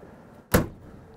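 The trunk lid of a 1970 Plymouth Road Runner convertible shuts with a single sharp, solid thump, close and loud, with quiet surroundings before and after.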